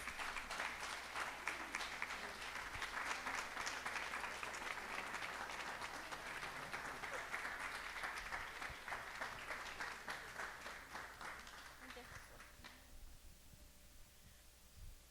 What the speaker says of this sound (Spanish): Un aplauso, por favor, para mis niños.